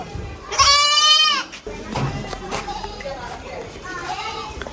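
A single loud, wavering goat bleat rings out near the start, part of a small herd handed to a family under a self-reliance goat-rearing project. Children and adults chatter around it and keep talking afterward.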